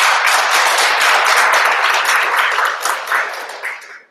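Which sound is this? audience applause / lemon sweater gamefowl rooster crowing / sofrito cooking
audience applause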